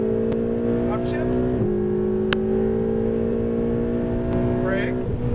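A Ferrari 488 GTB's engine holds a steady droning note on a race track, rising briefly after a quick shift change. An instructor's voice is faintly heard over it.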